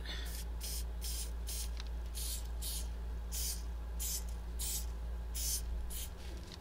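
A spray can hisses in a series of about ten short bursts, each roughly a third of a second, over a low steady hum.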